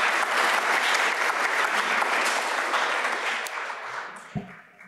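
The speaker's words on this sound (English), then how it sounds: "If we could just have a round of applause for that third Interseminars group." An audience at a University of Illinois lecture applauds a seminar group, with dense, fairly loud clapping that gradually fades over about five seconds, ending in a few scattered claps and a brief bump.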